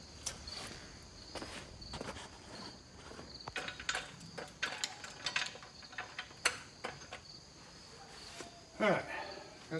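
A ratchet wrench works the bumper bolts off a 2002 GMC 3500 pickup, giving rapid clicking ratchet strokes in irregular bursts. Scuffs and handling noises sit under them in a close, busy garage setting.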